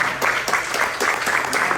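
Applause from a conference audience at an urban mobility panel, a dense burst of many hands clapping with a rhythmic pulse, loud and close, with no talk over it.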